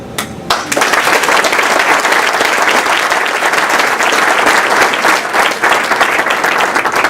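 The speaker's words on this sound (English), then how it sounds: "You all need to please aid me in giving my mother a round of applause." Audience applause at a senior luncheon, loud sustained clapping from a crowd that starts abruptly and fills the room evenly for several seconds without letup.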